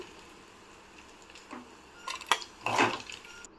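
Fried bitter gourd chips being moved into a bowl, with a few light clinks and scrapes of utensil against dish rising to a brief louder clatter near the end, close by and with no talking.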